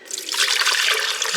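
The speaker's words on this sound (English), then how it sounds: "I'm going to add some of the liquid that I cooked the red chilies in or boiled them in" Red chili cooking liquid is poured into a mixer bowl for a pork hock pozole sauce. It gives a short, close, continuous splashing trickle that lasts about a second and a half with no voices.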